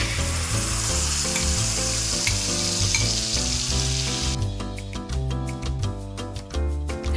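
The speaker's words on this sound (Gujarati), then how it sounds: "હવે આપણો મસાલો એકદમ સરસ રીતે સતળાઈ ગયો છે" Dabeli masala with green chillies sautéing in a pan, a steady loud sizzle and frying hiss throughout, with background music playing over the cooking noise.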